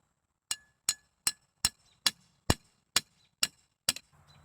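Nine sharp metallic hammer strikes drive a post into a turkey pasture, ringing out at a steady, even pace, close and loud, each one clanging briefly before the next.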